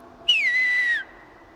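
A single clear whistled note imitating a creature's clicking, whistling call in a fantasy tabletop role-playing game, sliding down in pitch and then holding steady for under a second, close and loud over a faint background hum.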